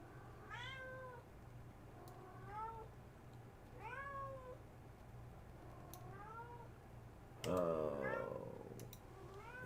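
A house cat meows repeatedly indoors, five or six drawn-out, rising-and-falling cries spaced a couple of seconds apart over a low hum, with a louder, more strained yowl near the end and faint clicks.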